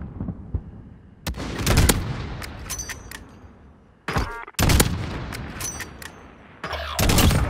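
Bursts of automatic gunfire from Call of Duty: Modern Warfare, several loud, rapid volleys cutting in and out with short gaps between them, close and dominant with no talking over them.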